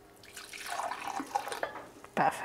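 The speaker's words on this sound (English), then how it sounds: "Now I'm gonna weigh the water. So I'm going to use 150 ml of this rice water." Rice water is poured into a container on a kitchen scale while cooking chicken biryani, a close, trickling and splashing flow that swells toward the end, heard alone without speech.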